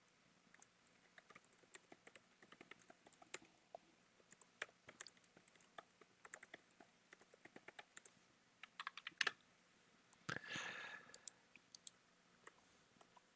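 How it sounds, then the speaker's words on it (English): Someone types on a computer keyboard during an air traffic control livestream, producing quiet, irregular key clicks with scattered sharper taps and one brief louder clatter. "I was typing there."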